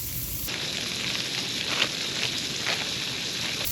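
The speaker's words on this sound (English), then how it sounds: "Get a little bit of butter in there. Caramelize these onions." Onions caramelizing in butter in a pan at an outdoor camp cookout, giving a steady, close sizzle that hisses evenly throughout with a few small pops and no talking.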